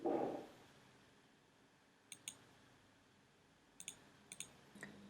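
A computer mouse clicks a few times, sharp and close, in scattered pairs against a quiet room tone, with no voices.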